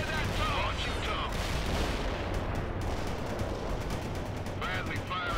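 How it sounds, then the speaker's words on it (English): A Bradley fighting vehicle fires in a military video game, producing dense, continuous rattling gunfire and booms that fill the whole stretch at steady loudness. "Bradley firing from position."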